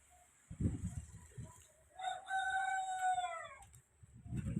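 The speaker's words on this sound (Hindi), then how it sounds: "तो देखें सब मुर्गा मुर्गी सब बोली रिया है।" Roosters and hens call at a rural farmyard in India, with one rooster's long crow ringing out clearly at mid distance and some clucking and soft background noise before and after.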